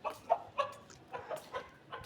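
Two chickens clucking on a house rooftop, a series of short, close, irregular clucks and squawks spaced through the moment, with no speech over them.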